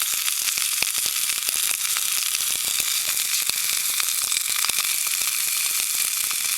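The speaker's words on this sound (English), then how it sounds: "we burn out all the wax out of the can" Wax burns out of a tin can over an open fire, making a steady, loud sizzling crackle full of sharp pops and spits that runs without a break and with no voices.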